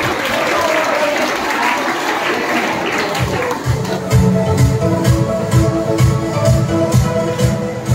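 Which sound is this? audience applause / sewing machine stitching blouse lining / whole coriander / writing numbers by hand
audience applause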